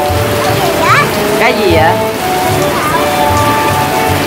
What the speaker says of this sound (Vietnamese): ngoài trời trời mưa quá trời luôn nè các bạn ơi